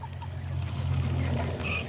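A small rooster and hen settle in a little nest box inside a backyard pen, giving soft, low clucks over a steady background hum with a few faint chirps.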